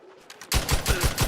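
Rapid gunfire from a weapon in The Outer Worlds 2 bursts in after a quiet moment, five or six sharp, loud shots in quick even succession.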